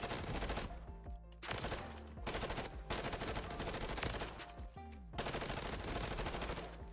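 Gunfire in Call of Duty Modern Warfare 3 Resurgence, dense continuous automatic bursts and explosions with brief pauses between volleys, loud and busy throughout.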